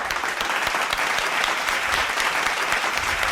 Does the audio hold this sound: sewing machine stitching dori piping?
no